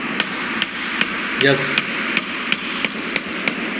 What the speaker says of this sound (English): Now he may utilize the hammer for perfect matching.